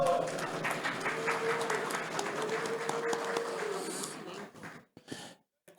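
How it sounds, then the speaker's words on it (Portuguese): Applause during a municipal council session marking the birth of a staff member's daughter, a dense steady wash of clapping from the chamber that runs for several seconds and then thins out and stops. "Gostaria uma salva de palmas"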